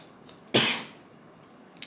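A single sharp cough from a man, close and fairly loud, with a fading tail and faint breathy sounds before and after.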